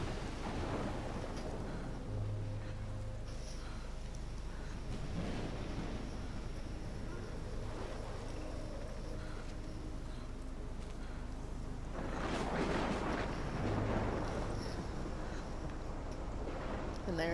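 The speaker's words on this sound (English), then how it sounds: "that's a fucking storm" A thunderstorm in the video game Life Is Strange: steady rain hiss under low rolling rumbles of thunder that swell twice and fade, with a constant low hum in the background.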